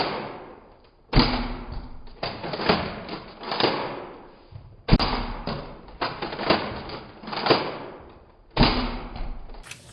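A Nerf Mega foam-dart blaster is reloaded at close range, giving a run of hollow plastic clacks and thumps that repeat roughly every second with short pauses between them.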